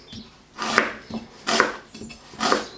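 Knife chopping onion, carrot and celery on a board, three firm, evenly spaced cuts with no talking.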